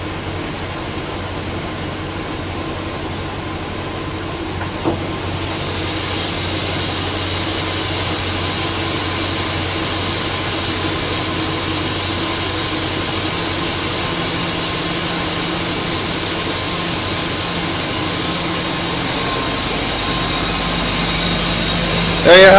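Steady, loud drone of a BMW M62 B44 V8 engine running in a BMW E31 840Ci, a continuous even hum holding for the full stretch with no breaks.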